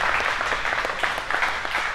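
An audience at a live talk event in Seattle claps steadily for the full two seconds, a dense close patter of applause with no voices over it.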